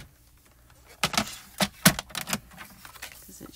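A trimmer cuts a sheet of cardstock down to size in a few quick, crisp slicing and clicking bursts close to the mic, separated by short pauses in an otherwise quiet room.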